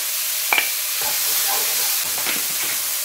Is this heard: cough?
no